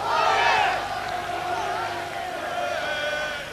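A capacity crowd of about 5,300 at an FA Cup first-round match between Dagenham & Redbridge and Leyton Orient keeps up a steady, loud roar of cheering and shouting, with a brief swell at the start and no pause.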